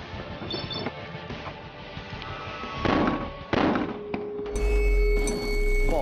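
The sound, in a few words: explosion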